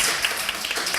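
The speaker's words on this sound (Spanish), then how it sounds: "aplaudan nomás" Applause from a seminar audience, a steady wash of many hands clapping close by, continuous and fairly loud for about a second.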